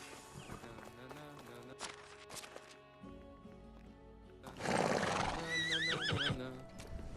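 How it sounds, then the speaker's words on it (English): A horse in the Medieval Dynasty game lets out a loud, wavering whinny midway through, set against steady in-game ambience and a few soft hoof clops. "Horsey."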